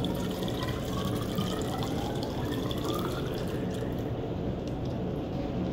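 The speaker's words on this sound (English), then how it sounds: "we're gonna pour this into this graduated cylinder so we can have a known volume" Soil water poured from a soda bottle into a graduated cylinder in a lab setup, a steady close liquid pour with dripping and filling sounds lasting several seconds, no voices.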